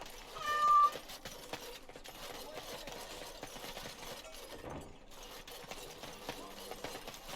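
A house cat in the Dragon Age: Awakening video game, set in the City of Amaranthine, gives one short meow near the start, rising briefly above a steady bed of in-game ambience that continues afterward.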